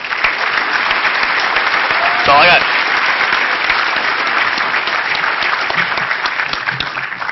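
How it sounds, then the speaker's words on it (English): Loud, dense applause fills the whole stretch, a conference crowd at closing remarks clapping steadily with a brief cheer and a voice speaking over it early on. "please give them a round of applause"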